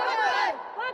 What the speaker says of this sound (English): A team prayer and a team cheer.